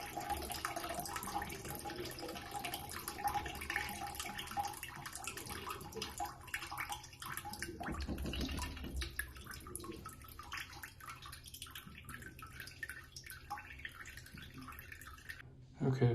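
Water flushes from a Navien tankless water heater into a bucket during a reverse flush done without a pump, making a steady, low-level running and splashing sound that continues throughout.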